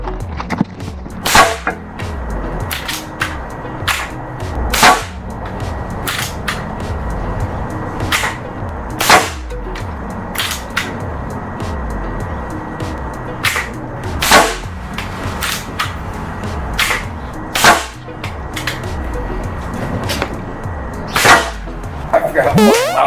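A CO2 air gun fires pellets outdoors in the cold, with about fifteen sharp, loud cracks spaced irregularly every second or two and a low hum between the shots.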